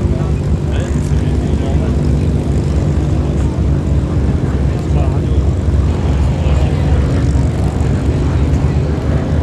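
A B-17 bomber flying at the Duxford Flying Legends air show gives a loud, steady propeller-engine drone throughout, with a commentator's voice running over it on the public address.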